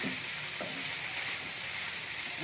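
Sweet corn tipped into a pan of sizzling tomatoes for a paneer vegetable salad, with a constant loud frying hiss and faint stirring clatter, nobody speaking.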